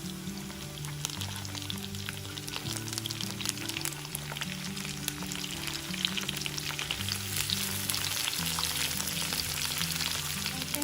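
Eggplant pieces frying in oil with sliced onion and garlic, a dense, continuous close sizzle with crackling bubbles, steady and loud throughout with no talking.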